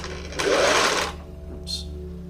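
A sewing machine runs a short burst of stitching on a t-shirt durag, a close rapid whirring buzz lasting about half a second, followed by a faint mechanical click.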